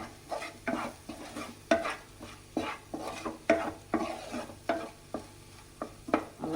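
Beaten egg mixture with salt being stirred in a pan for butter egg sevai, a spoon or spatula scraping in regular strokes about once a second over a soft background sizzle, close and clear with no voices.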